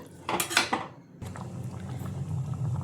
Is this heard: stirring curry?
yes